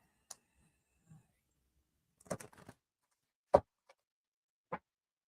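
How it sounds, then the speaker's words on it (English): Tarot cards being shuffled by hand, heard as a few soft, sparse riffles and taps with long quiet gaps between them, close and faint. "as I'm shuffling the cards and saying your name"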